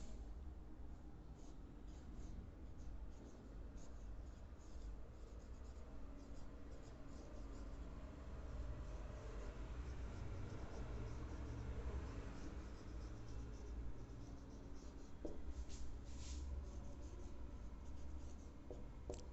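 Handwriting on paper, a pen or pencil forming chemical element symbols, a steady soft scratching that runs continuously and fairly faint over low background hum, with no voices.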